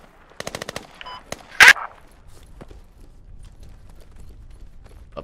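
Machine gun fire in the Squad military shooter game: a short rapid burst of about six shots, a few single shots and one louder blast, then quiet shuffling footsteps.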